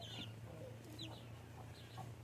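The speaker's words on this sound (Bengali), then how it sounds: "এগুলো হচ্ছে অরিজিনাল আমেরিকান ব্রাহ্মা" American Brahma chickens, ten 34-day-old vaccinated birds kept for sale, give soft scattered clucks and short calls over a low steady hum, faint and close.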